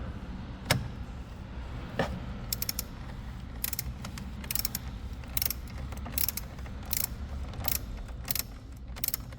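Ratchet wrench clicking in short bursts while loosening the 10mm screw on a battery terminal of a 2018 Kia Sorento 2.4L GDI, with quick pawl ticks repeating over a low steady background hum.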